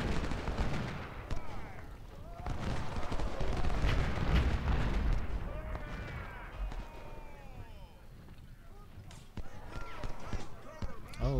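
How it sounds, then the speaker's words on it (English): Civil War musket volleys and scattered gunfire from the Ultimate General battle game, a steady crackle of shots through the whole stretch, mixed with someone talking over it. "Siegfried really should be out shooting this regiment"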